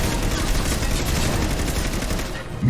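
Sustained automatic fire crackles through a battle in Mass Effect Legendary Edition, a loud, dense stream of rapid shots mixed with a little speech.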